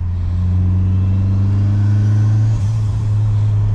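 A Volkswagen Santana GLS with a turbocharged alcohol-fuelled engine revs loudly and steadily nearby, a deep sustained drone with harmonics, dipping briefly before holding again.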